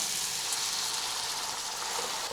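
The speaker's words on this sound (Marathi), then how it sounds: "तर तेल चांगलं तापलेलं आहे आता यामध्ये आपल्याला घालायचा आहे कांदा" Onion hitting hot wood-pressed oil in a pan, a close, steady hiss of frying that holds evenly throughout, then a sharp clatter at the very end.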